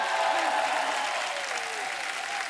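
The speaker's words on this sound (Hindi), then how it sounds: "एक बार जोरदार तालियां हो जाए टीम सर्कस के लिए।" A studio audience on a comedy talk show gives team Circus loud, dense applause. The many hands clap evenly and continuously throughout, with no other sound standing out.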